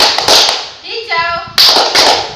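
Sharp group claps from a class of children during a counting clapping game, one burst of claps, then a short spoken call, then another cluster of claps, close and loud.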